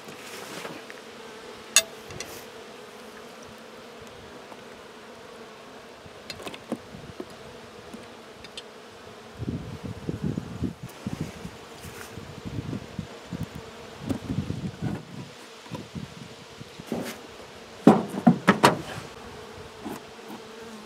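Honey bees buzzing steadily around an open backyard beehive, a close, continuous hum that swells in louder bursts toward the end, with occasional knocks of the hive cover.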